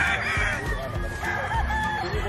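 A Basilan native rooster on a free-range farm crows in a drawn-out, wavering call, moderately close, with other fowl and outdoor background noise around it.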